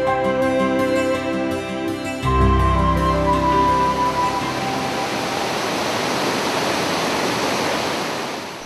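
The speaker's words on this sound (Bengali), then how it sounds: "এটা কোনো ঝর্ণা নয়, এখানে 3টে নদী এসে মিশেছে" At Bindu, where three rivers meet, water rushes loudly in a steady, broad roar that holds throughout, with a tonal hum fading away in the first few seconds.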